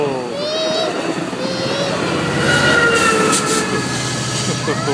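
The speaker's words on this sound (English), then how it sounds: "Uh-oh, we missed the train" A passing train rumbles loudly and steadily, with a metallic squeal rising near the middle, while a child and an adult talk excitedly over it.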